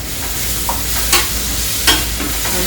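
Onions cooking on a tava for an Indian egg masala, a steady loud sizzle close up, broken by a few brief scraping stirs of a spatula against the pan.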